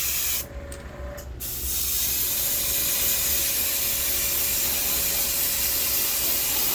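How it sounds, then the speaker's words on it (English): Steady hiss of spray paint from an aerosol can onto a vintage Storm Wiggle Wart V36 fishing lure, continuous and fairly close, after a short burst near the start. "And this one I'll spray a little further away."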